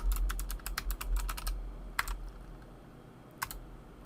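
Fingers tap out a password on a computer keyboard, a quick run of crisp clicking keystrokes followed by a pause and a few isolated key presses, close and clear.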